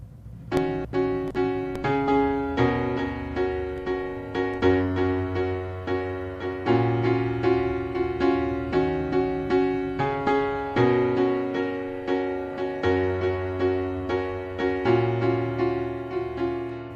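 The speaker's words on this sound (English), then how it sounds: "today we're going to be looking at the piano riff for the intro" A repeating piano riff from the intro of a song played steadily, with rhythmic chords in the right hand over shifting bass notes, clear and close.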